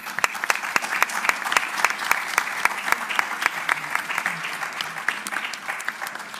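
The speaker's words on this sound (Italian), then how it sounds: "can we all give a round of applause for this huge um, ac accomplishment?" An audience at the closing press conference of the G7 on inclusion and disability gives a round of applause: brisk, dense clapping from a moderate-sized crowd that stays even throughout, slightly distant in a hall.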